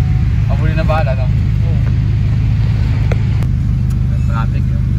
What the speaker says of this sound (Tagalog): Traffic yun.